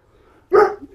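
A dog gives one loud, close bark that tails off into a brief whine, after a stretch of quiet room noise.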